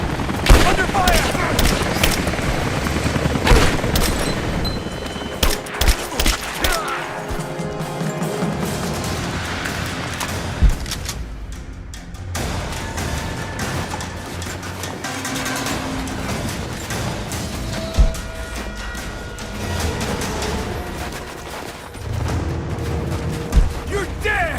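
Loud, dense gunfire in the video game Rise of the Tomb Raider: bursts of automatic fire, single shots and booming impacts over continuous combat noise, with voices shouting in between.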